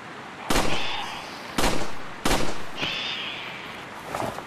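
Shotgun blasts from the Resident Evil 4 VR video game: three loud, sharp reports spaced about a second apart, each with a ringing, metallic tail and faint mechanical clatter, alone without talk.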